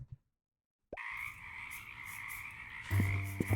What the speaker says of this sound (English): The frogs are so loud, I don't think I could sleep there.